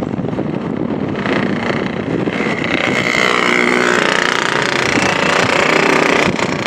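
Strong wind blusters over the microphone on a coastal riverbank, a loud continuous roar that swells and gusts harder midway.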